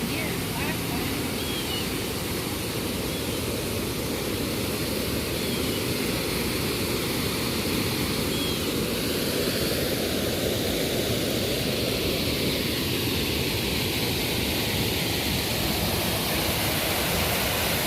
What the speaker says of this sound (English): I didn't notice this little waterfall here last time.